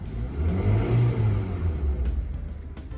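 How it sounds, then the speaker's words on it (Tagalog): A 2010 Honda City engine with an unstable idle rumbles close by, its low hum swelling and sagging as the RPM wavers before settling, with no one talking. "masyadong buwaba yung kanyang idle sa pananginginig yung makina"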